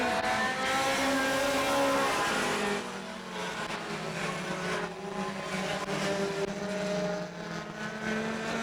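Pure Stock cars racing on an oval racetrack, a loud blend of several engines roaring past with rising and falling pitch, heard from trackside.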